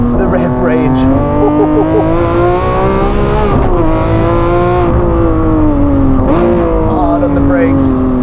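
A Lamborghini Aventador Ultimae Roadster's 6.5-litre V12 revs loud and close, its pitch climbing steadily up the range and dipping briefly between pulls, with tire noise and faint talk underneath.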